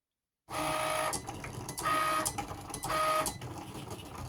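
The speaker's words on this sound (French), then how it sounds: "il faut simplement lancer en appuyant sur ce petit bouton et ça va faire la découpe" A Cricut Explore 3 cutting machine runs on black vinyl, giving a mechanical whirring hum with rhythmic surges as the carriage moves back and forth, close and steady, with no speech.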